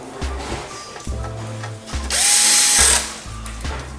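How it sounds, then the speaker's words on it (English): Power drill driving screws to join parts during a build, with short bursts of whirring motor and ratcheting clutch clicks, then a louder sustained high whine, close and loud, separated by brief pauses. "We just screw it all together."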